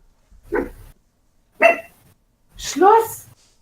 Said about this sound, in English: We have an angry dog.